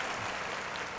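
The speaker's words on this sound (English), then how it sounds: "Clap it up for that." An audience at a live show claps for new music in a short, dense, even burst of applause with no clear break.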